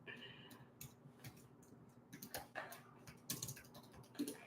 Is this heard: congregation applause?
no